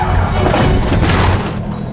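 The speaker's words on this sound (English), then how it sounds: "crashing into a fence." A Lamborghini skids on a wet road and crashes into a fence, heard as a dense, loud booming smash with a sharper crunch partway through, then a rumbling tail.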